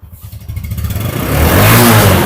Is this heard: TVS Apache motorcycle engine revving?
yes